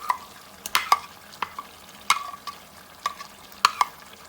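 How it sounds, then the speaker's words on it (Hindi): Chicken karahi with yogurt, black pepper, dried coriander and cumin being stir-fried in a pot as the yogurt cooks down, with a soft sizzle under repeated sharp scrapes and knocks of a spoon against the metal. "जब तक मुकम्मल दही भूनकर गोश्त खुश्क नहीं हो जाता, पानी तमाम ख़त्म नहीं हो जाता, हम लोग इसको भूनते रहेंगे"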